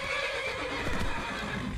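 A horse in the video game Skyrim lets out a clear, close whinny over the brief span, accompanied by clip-clopping hooves and no talk.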